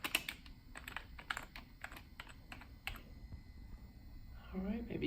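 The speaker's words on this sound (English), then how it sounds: "So I'll type something for you." Keys clatter on a 2001 iMac G3 keyboard in a quick, uneven run of close, crisp taps that tapers off after about three seconds.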